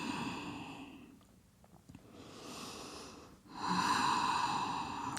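Slow, deep breathing while someone holds a yoga pose: a loud, airy exhale, a short quiet gap, then a softer inhale and another long, strong exhale, close up.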